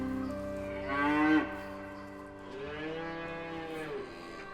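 Two long, drawn-out moos from cows penned in a paddock at the bottom of a big cave in a game, one after another, clear and fairly close with nothing else over them.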